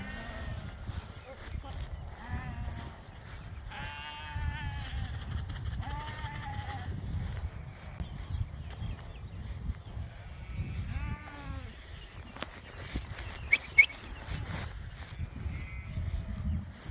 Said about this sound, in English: They're sheep. They follow each other.